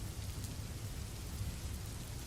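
Heavy pouring rain falling steadily outside, a dense continuous hiss with a low rumbling undertone, loud and unbroken throughout with no voices.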